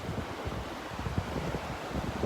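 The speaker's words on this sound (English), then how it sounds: "The wind's coming out of the northeast now, or north, mostly the north." Steady wind blowing across the beach at Delnor-Wiggins near the pass, a low broadband rush with soft surf-like wash and light buffeting, moderately quiet with no voice.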